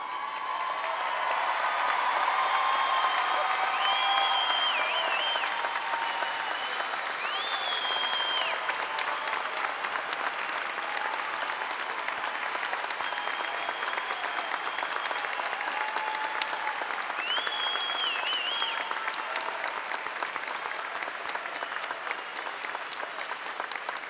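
Sustained applause from a large audience at the Murray State University May 2017 commencement, honoring newly commissioned Army second lieutenants; steady dense clapping fills the hall for over twenty seconds, with faint whistles and cheers rising above it.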